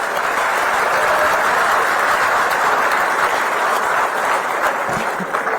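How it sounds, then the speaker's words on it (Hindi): Sustained, dense applause from a large audience at a government ceremony, loud and even throughout with no talk over it. "उनको भी एक बार जोरदार ताली बजाएं।"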